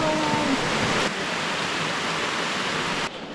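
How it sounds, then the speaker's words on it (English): A waterfall found while bushwhacking in Eryri in winter gives off a steady, loud broadband rush of falling water that continues evenly and then drops off slightly near the end. "Wow, waterfall!"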